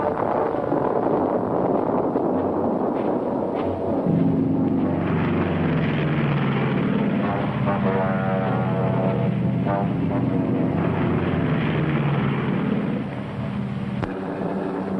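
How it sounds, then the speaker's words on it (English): Heavy WWII-era aircraft engines drone steadily overhead, a dense continuous roar with shifting pitch as bombers and fighters pass, loud throughout with some wind-like noise. "Allied long-range tactical fighters had made the skies safe for the heavy strategic bombers."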